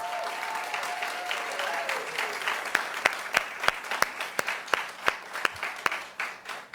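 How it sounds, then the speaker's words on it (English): A crowd applauds steadily, with sharper individual claps standing out over the dense clapping toward the end. "Let's give Taggart a big round of applause."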